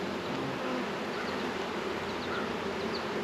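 Honey bees buzz steadily and densely at a swarming hive tended by a beekeeper in Cuyahoga Valley National Park, a continuous close hum with no talk over it.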